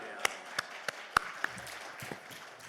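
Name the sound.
church congregation applauding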